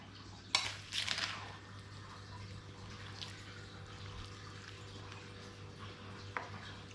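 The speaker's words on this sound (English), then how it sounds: "I'll add that a little bit at a time and just combine with the butter, sugar and egg mixture" Dried fruit soaked in rum and orange juice is stirred a little at a time into a butter, sugar and egg mixture for fruitcake. A short burst of utensil clinks and scraping comes near the start, then only a quiet background hum.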